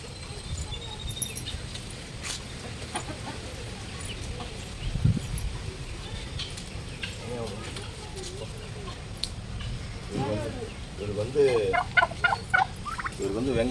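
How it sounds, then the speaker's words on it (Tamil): A male turkey gobbles in bursts toward the end, over steady farmyard background noise, with people talking nearby. "இவர் தான் சேவல் வான்கோழி சேவல்"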